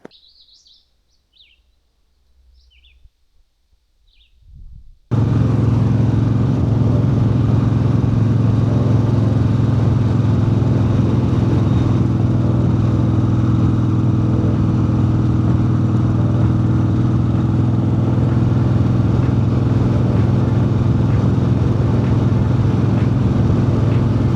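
A motorcycle fitted with TC Bros. mid controls rides along, a loud, steady engine drone with wind roar that starts abruptly after a few seconds of faint birdsong and continues to the end.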